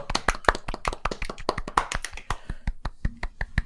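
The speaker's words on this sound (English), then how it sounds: "Give yourselves a clap there, lads." Podcast hosts clap their hands together in a quick, uneven burst of many sharp claps. The claps are close and fairly loud and slow slightly toward the end, with no talk.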